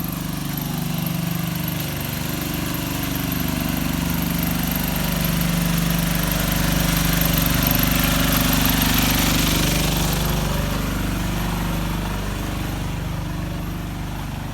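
A loud, steady mechanical drone of a generator running continuously at a mosque, with a constant low hum and engine rumble throughout.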